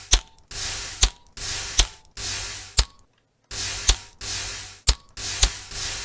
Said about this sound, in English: it's the sound of a modern-day lighter, but very much slowed down and made to sound more gritty.